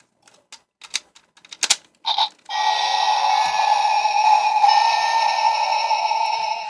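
A few clicks and a short mechanical whir lead into a loud, steady electronic buzzing tone with a warbling edge from a Goseiger Leon Lazer toy blaster with the Vulcan header attached, held for several seconds.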